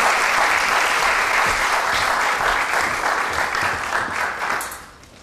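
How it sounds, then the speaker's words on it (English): A theater audience at a play reading claps steadily and enthusiastically for several seconds, the applause thinning and fading out at the end. "Let's give them a round of applause and bring them out."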